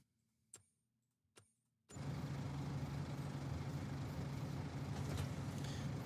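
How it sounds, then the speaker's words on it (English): A large 435-horsepower tractor with a CVT transmission runs loudly and steadily at close range, its low engine drone starting abruptly after a couple of faint clicks and then holding constant. "It's definitely a big tractor."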